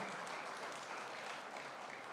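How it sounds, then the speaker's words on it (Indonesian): Faint, steady applause from an audience at an expo opening ceremony honouring Indonesian small businesses, a soft continuous patter of clapping with no voices over it. "Tepuk tangan buat UMKM kita"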